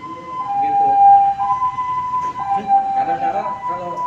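An ambulance siren wails in a steady rising and falling tone under ongoing talk, sounding fairly close and clear.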